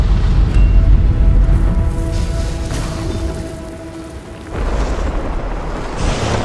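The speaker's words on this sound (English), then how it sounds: "That bloodstone explosion seemed to trigger some sort of magical echo." A bloodstone explosion and tremor in the video game Guild Wars 2: a loud, rumbling, sustained boom with crackling debris that eases off, then swells again in a second surge, with no talk.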